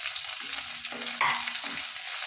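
Ginger, garlic and green chilies frying in oil in a pan for egg roast, a steady close sizzle with a few brief stirring scrapes and no talk.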